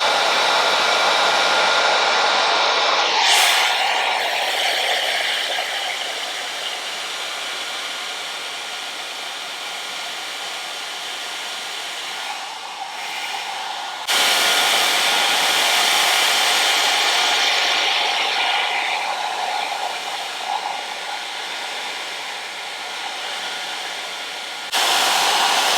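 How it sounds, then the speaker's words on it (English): T3 Fit hair dryer running on its second speed at the highest heat, a steady loud airy roar that shifts slightly as it moves near and away, with a brief break midway, and no voices. "So I'm going to put mine on the second speed and then the highest heat setting."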